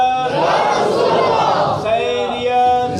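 A large crowd at a Shia religious gathering shouts a slogan response in unison, a loud, sustained roar of many voices that briefly dips and then swells again.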